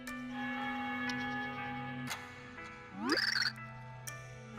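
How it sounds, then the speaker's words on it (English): Bells chime in Super Paper Mario over a sustained tonal game music bed, with a bright cluster of ringing bell tones swelling briefly near the end before the steady drone continues. "I hear bells."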